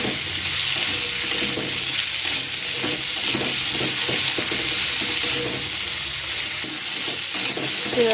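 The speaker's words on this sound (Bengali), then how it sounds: "কুচি কুচি করে কেটে রাখা আলুগুলো দিয়ে দিলাম খুব ভালো করে তেলেতে ফ্রাই করব এটাকে" Finely chopped potatoes frying in plenty of oil, a loud dense close-up sizzle with repeated rhythmic scraping and clattering as they are stirred in the pan, no speech.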